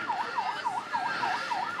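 An ambulance siren wails in Liberia during the Ebola outbreak, a rapid repeating rise-and-fall yelp cycling about every third of a second, loud and steady with no talk over it.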